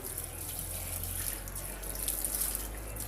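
Tap water runs steadily through a water filter, a continuous close hiss and splash that holds at an even level for the whole stretch, with no voices.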